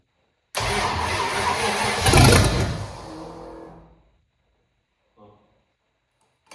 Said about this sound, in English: Don't turn the fuel on yet, just crank it. And then when it cranks, turn the fuel on.